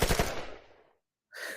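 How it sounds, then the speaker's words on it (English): A short burst of rapid gunfire effects fired off as a goal celebration on a football podcast, loud and close, fading out before a second blast cuts in at the end. "Again, gunshots for Jota the Shotter."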